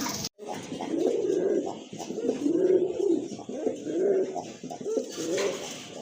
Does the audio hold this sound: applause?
no